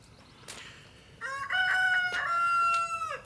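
One rooster crows a long, drawn-out cock-a-doodle-doo from a moderate distance, clear over a quiet outdoor background, with a soft thump just before.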